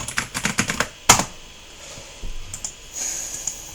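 Rapid computer keyboard typing with a run of crisp key clicks, then a single sharp, louder press of the Enter key, followed by a few sparse, softer taps over quiet room tone.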